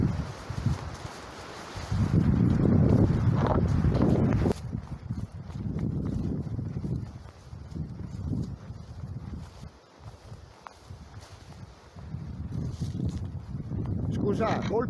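Wind gusting across the summit of Monte Cassio roars and rumbles steadily into the microphone, swelling and easing in uneven waves throughout.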